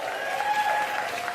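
A comedy show audience gives a brief burst of applause, dense clapping and a few voices mixed in for a moment.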